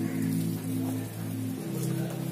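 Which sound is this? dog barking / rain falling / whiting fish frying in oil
rain falling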